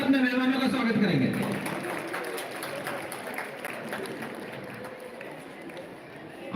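A crowd applauds to welcome guests at an outdoor Republic Day celebration. A speaker's voice opens the moment, then a dense, sustained patter of clapping fills the space and slowly fades.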